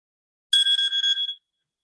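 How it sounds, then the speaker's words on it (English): A timer goes off during a quick figure-drawing session, a bright ringing chime with several rapid pulses over about one second, close and clear against silence. "There's the timer."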